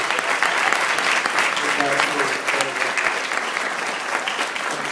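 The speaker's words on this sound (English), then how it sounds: "if you just give them a round of applause for their beautiful wedding" Wedding guests give the couple a round of applause, a sustained, full wash of many hands clapping at once, with a few voices faintly audible beneath the steady clatter.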